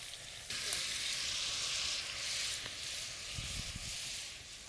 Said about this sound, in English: We have some nice caramelization going on in the pan.